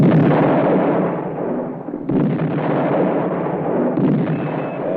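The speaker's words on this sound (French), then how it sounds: "La batterie du canon continue à tirer inexorablement" Heavy, sustained booming roar of cannon fire, loud and continuous, with a fresh blast hitting about every two seconds.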